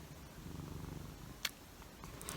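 A cat purrs softly and steadily, close but faint, with a rhythmic low rumble at a quiet indoor setting. A brief sharp tick and some light rustling occur, and there is no speech.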